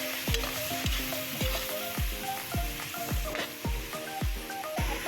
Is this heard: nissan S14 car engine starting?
no